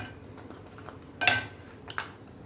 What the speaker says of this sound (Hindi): पहले मैं इसमें आइस डाल दूंगी